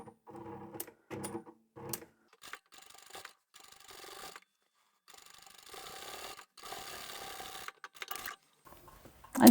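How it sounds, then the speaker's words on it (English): A sewing machine top-stitches layered upholstery fabric sample pieces for a patchwork boxy bag, sounding in short bursts of whirring stitching broken by pauses, fairly close and moderately loud with no talking. "And I'm going to top stitch this side now."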